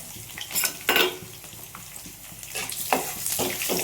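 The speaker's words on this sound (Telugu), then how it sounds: "నేను పచ్చగా దంచుకున్న అల్లం వెల్లుల్లి వేసుకుంటున్నాను" Crushed garlic hitting hot tempering oil, bursts of loud crackling sizzle with spoon clinks against the pan, close and uneven across a few seconds.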